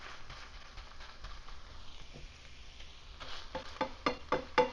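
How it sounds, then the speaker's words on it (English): A spatula scrapes and stirs bacon into eggs in a pan with plenty of bacon grease, making soft shuffling and sizzling, then a run of sharper, louder taps and scrapes toward the end, with no talking. "Let me start with the spatula and start to mix the bacon in with the eggs"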